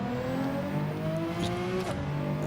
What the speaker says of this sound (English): listen to that engine note, it's absolutely incredible